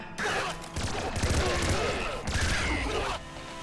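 Twin laser miniguns firing in the video game Nuclear Throne, a dense, loud, continuous rattling stream of shots in bursts, with a voice talking over it.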